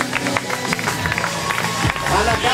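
Spectators applauding a runner crossing the finish line at a half marathon, a steady patter of clapping and crowd noise mixed under an announcer talking over a loudspeaker.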